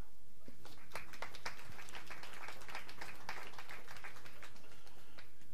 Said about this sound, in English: give us a big applause, ladies and gentlemen